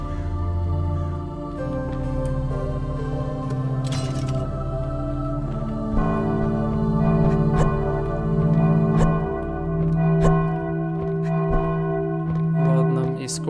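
A bell in Vigil: The Longest Night rings out as it is struck repeatedly, each loud metallic strike hanging in a long, overlapping resonant hum.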